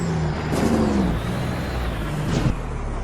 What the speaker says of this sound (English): Is my engine brake still on? Sounds like it's on.